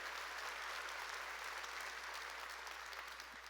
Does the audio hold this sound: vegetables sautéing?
no